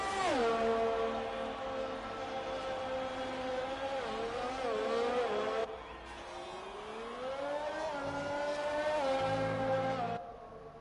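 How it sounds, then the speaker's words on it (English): A race car engine screaming through a hot lap of the Sakhir circuit in Bahrain in a racing video game, sustained high revving that rises and falls with gear shifts and a brief lift mid-lap, loud and alone. "we're going to watch him on this beautiful hot lap as he comes round the track"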